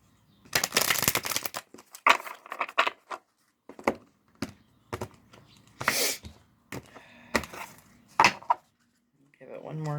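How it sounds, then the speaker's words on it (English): Tarot or oracle cards are shuffled in short riffling bursts separated by pauses, close and crisp, with occasional soft murmurs in between. "Give it one more shuffle."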